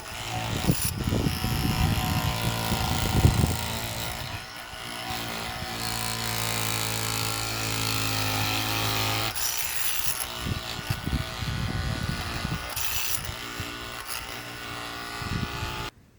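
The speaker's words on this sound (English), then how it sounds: "Put on a scraper blade and remove paint or adhesive from objects." A SnapFresh cordless multitool fitted with a scraper blade strips paint from a weathered outdoor bench, buzzing in rough, uneven bursts that shift in tone partway through as the blade bites and eases off.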